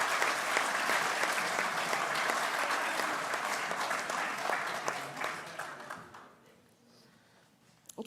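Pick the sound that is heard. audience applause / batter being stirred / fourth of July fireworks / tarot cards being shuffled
audience applause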